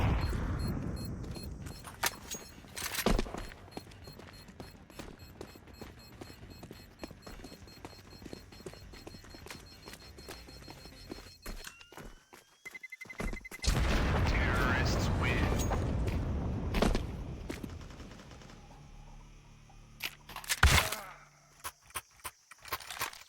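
Counter-Strike gunfire during an ESEA Main playoff match, with sharp bursts of shots and loud impacts scattered across the round, mixed with game noise and commentator talk.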